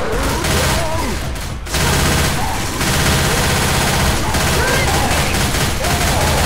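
Sustained gunfire in the zombie shooter Left 4 Dead 2, loud and dense with rapid bursts running throughout and a brief lull partway through, with voices talking over it.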